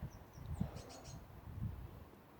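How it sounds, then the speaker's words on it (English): Faint, distant bird chirps and short calls drift over a quiet home yard, a few light high tweets above a soft low background hush. "listening to the birds"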